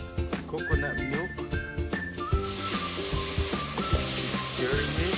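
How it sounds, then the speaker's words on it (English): Coconut milk poured into caramelized sugar for coconut jam, a loud rush of sizzling hiss that swells partway through and continues over melodic background music. "And now we add some coconut milk."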